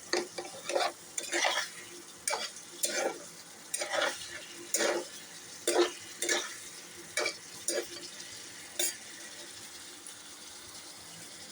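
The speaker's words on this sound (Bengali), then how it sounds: "তো এটা কষছে।" Potatoes and cauliflower with tomatoes sautéing in a pan, a sizzling fry broken by regular scraping stirs, about a dozen strokes in a steady rhythm, close and clear.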